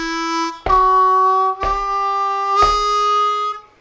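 A harmonica plays a short lick of quarter notes using 2-draw and 3-draw holes with whole-step and half-step draw bends. There are four sustained reedy tones separated by sharp breaths, played solo and close.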